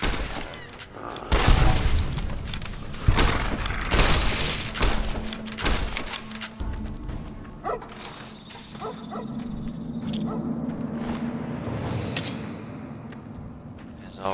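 Gunfire from new guns in the Fallout New Vegas video game, several loud sharp bursts in the first half, then quieter game sounds with a dog barking and whimpering.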